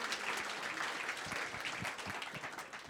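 Audience applause at a youth event, a steady broadband wash of many hands clapping that fills the whole stretch at even loudness, with scattered individual claps poking through.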